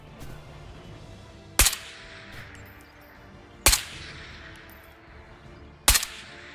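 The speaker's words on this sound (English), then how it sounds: "Dude is still firing at me." Three sharp, loud gunshots ring out at spaced intervals, about two seconds apart, each with a short echoing tail, fired by an enemy player from a lighthouse window in the video game Ghosts of Tabor.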